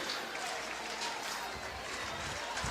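A baseball stadium crowd at a Big Ten Tournament championship game between Iowa and Maryland cheers and claps in a steady, distant roar that holds under a commentator's voice.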